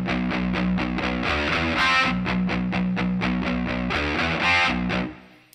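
Distorted electric guitar chugs through a dense power-chord passage, loud and sustained for about five seconds before cutting off, with no talking.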